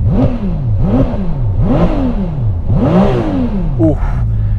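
A Ferrari 296 GTS V6 turbo engine revs up and drops back in repeated sweeping bursts while in neutral, four or five sharp throttle blips close by, ending in a lower idle.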